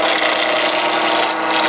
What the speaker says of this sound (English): you'll go back and forth with this gouging tool